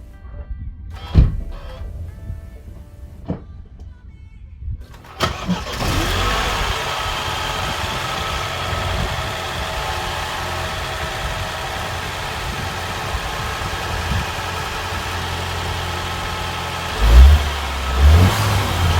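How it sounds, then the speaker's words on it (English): A BMW F20 car engine with a Pipercross intake filter starts, idles, then revs with a whooshing turbo intake roar that rises and falls, surging again near the end. "Now that it's been installed, let's hear that induction noise."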